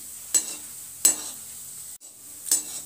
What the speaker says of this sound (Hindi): और इसको ऐसे हिलाते रहेंगे, गैस का फ्लेम अब मीडियम कर देंगे। ऐसे हिलाते हुए पकाएंगे।